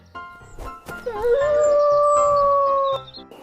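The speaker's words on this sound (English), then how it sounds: "Fox." A fox calls with a single drawn-out, wavering howl-like cry that rises, holds steady and cuts off, loud and close, framed by brief sharp yips.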